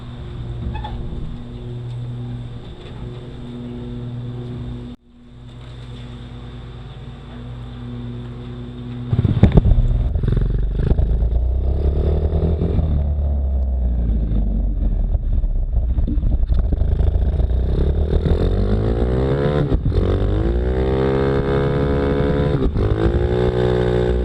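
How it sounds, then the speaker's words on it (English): A motorcycle starts off and rides away, its engine rumbling close and loud, then rising through gears with climbing revs amid buffeting wind noise on the microphone. "Now I'm going to unhook this bike and ride it back to town"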